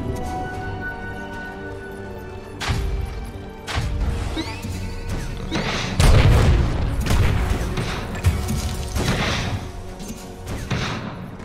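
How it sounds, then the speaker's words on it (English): Dota 2 battle effects as towers come under attack: a dense run of booms, crashes and impact thuds, with heavier hits around the middle, layered over a steady game backdrop. "Dire's middle tower is under attack."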